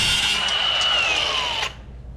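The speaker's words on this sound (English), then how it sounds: "I'm gonna grind this off because this is gonna take a while" A grinder cuts a part off a racing mower fitted with a lightbar, a loud close high whine that slowly drops in pitch for under two seconds before cutting out.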